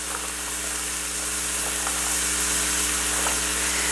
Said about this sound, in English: I'm going to go ahead and add the onion. Okay, give this another stir.